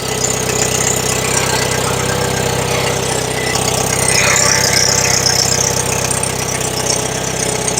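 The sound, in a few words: Bobcat skid steer engine running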